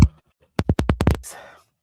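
A person sneezes once, with a quick run of sharp catching breaths building into a breathy, hissing burst, close and fairly loud with no talk over it.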